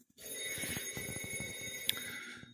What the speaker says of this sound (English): I don't answer the shop phone. It's Mom's house phone.